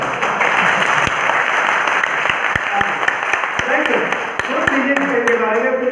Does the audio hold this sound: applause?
yes